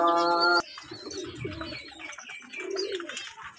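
Teddy pigeons in a loft give soft, throaty coos and rolling calls close by, following a short sustained tonal sound at the start.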